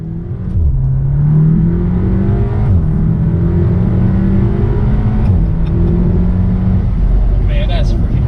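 A Volkswagen with a 2-liter turbocharged four-cylinder engine accelerating hard, a loud, close engine drone climbing in pitch through the gears with brief dips at shifts, heard from inside the car.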